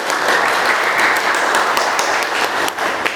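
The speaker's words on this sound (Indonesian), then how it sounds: "Oke, tepuk tangan." Applause from students in a vocational school classroom during a morning lesson, a dense steady clatter of clapping lasting about three seconds with no pauses.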